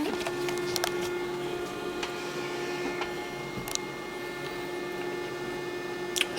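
Samsung ML1430 compact laser printer running its power-on self-test, giving a steady close hum with a fixed whine and occasional faint ticks and clicks, no voices.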